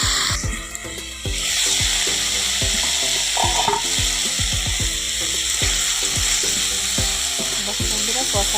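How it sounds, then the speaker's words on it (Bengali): Fish curry masala sautéed with salt in a pan, giving a steady close sizzle with repeated scraping and clacking of a utensil against the pan throughout, and no talking. "নুন দিয়ে দিলাম, ভালো করে কষিয়ে নেব।"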